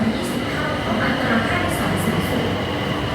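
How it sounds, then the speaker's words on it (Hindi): A Bangkok metro train rolls steadily through a station or tunnel, a continuous loud rumble of rail car and wheels with a faint high squeal, and no voices over it. "कुछ ऐसी लगती है यहाँ की मेट्रो।"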